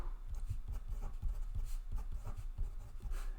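Math notation is written by hand in quick, quiet scratchy strokes, a steady rhythm of small pen-on-paper taps and drags heard up close with no voice.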